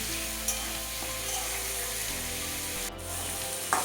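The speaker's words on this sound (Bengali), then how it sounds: "সব কিছু ভালো করে ভাজা ভাজা করে নেবে একটু" Drumstick (moringa) pods sizzle and fry in a pan with a steady hiss, a few small clinks and stirring bumps, close and moderately quiet.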